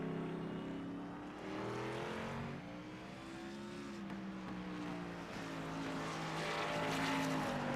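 An Xfinity Series race car at Mobility Resort Motegi brakes hard from about 150 to 55 mph into a corner, its engine note sweeping down and then climbing again, heard as a steady roaring drone.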